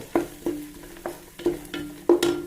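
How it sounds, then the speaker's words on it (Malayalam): A spoon stirs crushed peppercorns, crushed ginger and two chillies frying in a pan, scraping in a steady rhythm about every half second over a soft, faint sizzle, close up with no talk. "കുരുമുളകിൻ്റെ അല്ലി പൊരിക്കച്ചതും ഇഞ്ചി ചതച്ചതും രണ്ട് ചീരാമുളകുമാണ് അത് ഇതിട്ടെടുത്തിട്ടുണ്ട്"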